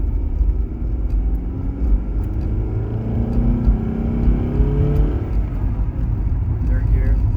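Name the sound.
Honda Accord manual transmission car accelerating in second gear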